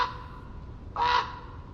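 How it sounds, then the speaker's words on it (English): A raven on the forested Oregon coast of the Pacific Northwest gives a single short, harsh croaking call, close and clear above a soft constant background hiss. "A raven calls out."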